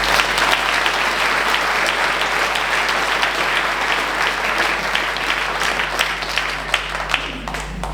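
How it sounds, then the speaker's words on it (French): Steady, dense applause from a large crowd at a town's New Year ceremony in Viviers, France, many hands clapping together at an even level for several seconds with no voices on top. "On peut les applaudir."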